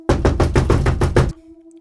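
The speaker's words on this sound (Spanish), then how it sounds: "Eran unos golpes en la puerta" A series of seven loud, evenly spaced knocks on a door, close and sharp, followed by a quiet steady hum.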